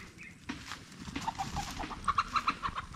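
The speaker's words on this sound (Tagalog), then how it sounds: "may mga manok." Chickens clucking and murmuring nearby in short repeated calls, with a low background hum and no voices.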